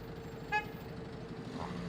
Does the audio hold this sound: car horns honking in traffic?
yes